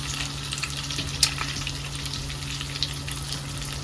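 Meatballs frying in hot oil in a pan, a steady broadband sizzle with a low constant hum underneath and a couple of brief crackles, with no voices.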